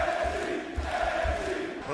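WWE arena crowd cheering a wrestler's debut, a loud sustained roar with rhythmic chanting pulses, heard at a distance as on a broadcast.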